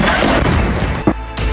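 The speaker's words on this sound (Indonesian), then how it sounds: "Ledakan dahsyat terlihat disertai oleh kobaran api." An Israeli air strike hits a residential building in Al-Aqabiyah, southern Lebanon, producing a loud, rumbling blast with a sharp crack partway through, heavy and close throughout.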